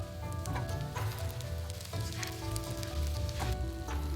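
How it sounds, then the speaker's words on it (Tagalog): Egg-dipped tikoy slices pan-frying in oil over medium-low heat, a steady close crackling sizzle with spitting pops throughout. "Ipan-fry lang natin to over medium-low heat hanggang sa tuluyang lumambot at mag-golden brown."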